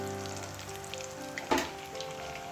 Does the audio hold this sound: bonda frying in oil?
yes